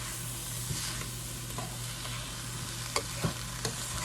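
Vegetables for broccoli cheese chowder sauté in a pan with a steady, close sizzle, occasional stirring scrapes and light clinks breaking through.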